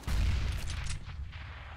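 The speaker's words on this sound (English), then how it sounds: "Grenade out." A grenade blast in the CS:GO video game lands as a heavy, booming explosion right at the start and then fades into a low rumbling tail.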